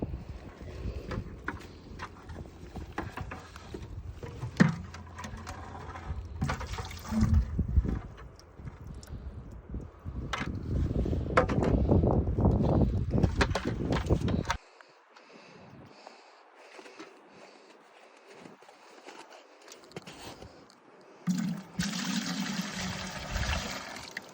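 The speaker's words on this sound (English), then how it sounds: "so we emptied a bucket" Maple sap is poured out of a collection bucket in a backyard sugarbush, making uneven trickling and splashing liquid sounds with knocks and handling noise, a quieter stretch, then a final burst of pouring.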